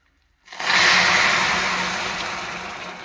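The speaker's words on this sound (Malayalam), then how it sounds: "ഇനി നമുക്ക് അതിലേക്ക് ഇച്ചിരി വെള്ളം ഒഴിച്ചു കൊടുക്കാം കേട്ടോ" A cup of water poured into melting sugar in a pan while making carrot cake, bursting into a loud, steady hiss and sizzle that starts suddenly and gradually eases.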